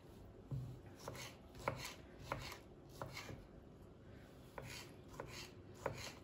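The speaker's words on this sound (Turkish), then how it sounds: "Şimdi domateslerimizi de bu şekilde minik minik doğruyoruz arkadaşlar" A knife taps rhythmically on a cutting board, quiet, evenly spaced chops close by, dicing tomatoes into small pieces.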